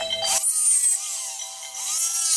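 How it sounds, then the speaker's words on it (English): A rotary tool trims the edge of a clear Essix orthodontic retainer, giving a loud, steady high-pitched whine with slight wavering in pitch as it cuts, heard alone throughout. "So I've trimmed that almost all the way around now."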